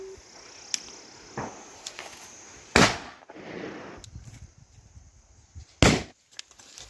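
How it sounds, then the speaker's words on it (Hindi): Two sharp Diwali firecracker bangs ring out a few seconds apart in a village, loud and fairly close, among smaller pops and crackles in the open air. "ये पटाखा है?"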